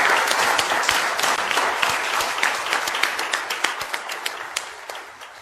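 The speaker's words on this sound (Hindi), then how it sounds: "तो मैं रिक्वेस्ट करूंगा आप सबसे बहुत जोर से ताली बजाएं।" An audience at a railway skills-training event in India claps hard and continuously, with dense applause that thins into distinct, individual claps toward the end.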